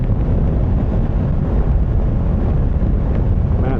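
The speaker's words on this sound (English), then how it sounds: "Man, this freaking side wind is crazy." Strong side wind buffeting a rider on a 2026 Kawasaki KLE 500 SE motorcycle on the street, a loud continuous low roar and rumble of wind across the microphone, with no talk.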